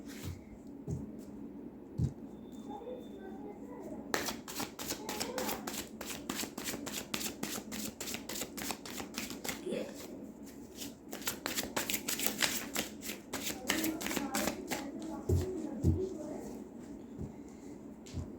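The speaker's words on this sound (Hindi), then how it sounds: "हो गई मेरे कार्ड की सफलिंग।" Tarot cards being shuffled up close in rapid bursts of crisp riffling flutters, with a pause between runs. Quiet handling sounds come before the shuffling starts.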